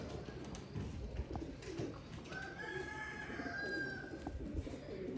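Pigeons coo in a breeding loft, a low murmuring under steady background noise with a brief higher call partway through.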